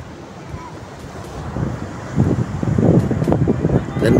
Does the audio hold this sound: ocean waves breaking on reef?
yes